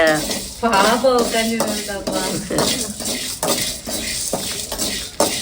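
Sundakkai vathal, dried turkey berries, dry-roasting in a pan, with continuous stirring, scraping and clattering of a utensil against the metal and a faint sizzle, while a person talks throughout.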